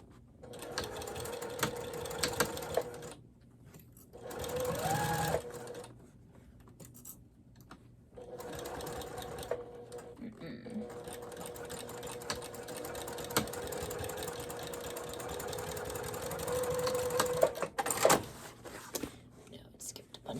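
A sewing machine with a walking foot stitches the side seam of a zippered makeup bag in bursts, pausing between runs while someone talks quietly in between.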